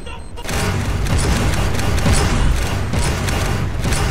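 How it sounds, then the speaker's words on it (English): Mortar firing in the Roblox tower-defense game Bootleg Tower Battles: after a brief quieter start, a dense, continuous barrage of booming, thudding blasts rolls on loudly with steady rhythmic pulses throughout. "The little mortar is trying as best as he can."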